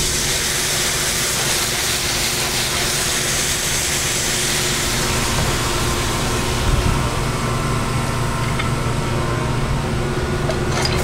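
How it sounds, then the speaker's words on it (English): Mussels steaming in a pan with garlic, sea salt and dry white wine, a loud continuous hiss and bubbling sizzle that holds steady throughout with no talk. "Right now the mussels are just steaming up."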